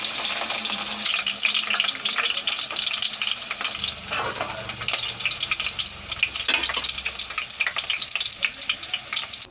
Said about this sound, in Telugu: బెండకాయ ముక్కలు వేయించి పక్కన పెట్టేసుకుందామండి